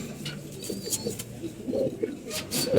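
Soft, low coos from Gulla pigeons repeat in an uneven rhythm, close by, with faint chirps and light background noise around them.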